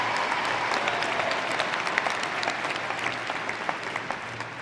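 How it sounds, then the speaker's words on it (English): A large crowd claps steadily at an undergraduate commencement ceremony, a continuous, moderately distant wash of applause with occasional sharper individual claps standing out. "How about a big round of applause for Alex as we congratulate him?"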